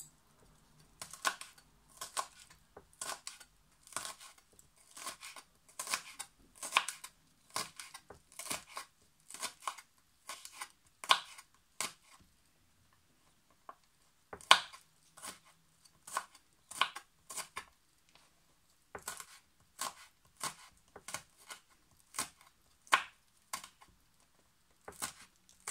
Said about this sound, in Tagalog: Hiwain natin ang chili.